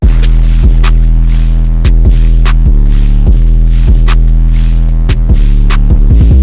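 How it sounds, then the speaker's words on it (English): A grungy trap drum pattern in FL Studio pounds loudly, with a distorted droning 808 under crisp rapid hi-hats and snappy snare hits in a steady, driving rhythm. "all together, the drums sound like this."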